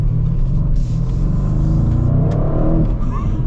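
A 2025 Audi RS6 Performance, over 600 horsepower, accelerating hard with a loud, continuous engine roar that climbs in pitch through the revs, close and steady for the whole stretch.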